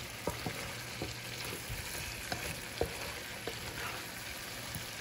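Garlic and butter fry in a pan for a shrimp dish, giving a steady, close sizzle with scattered light clicks and scrapes of stirring. No voices are heard.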